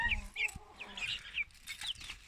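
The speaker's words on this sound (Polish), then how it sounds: "A tutaj kurczaki sobie siedzą." Chickens clucking and chirping close by, a busy mix of short calls overlapping, with some low rustling underneath and no talking.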